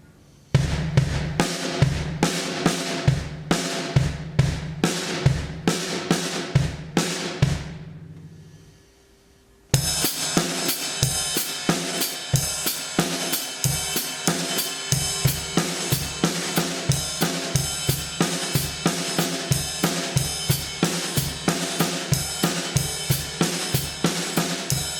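Drum kit playing an eighth-note paradiddle independence exercise with the double stroke moved to the start of the figure, steady repeated strikes with a brief pause partway through, then the pattern resumes steadily without talk.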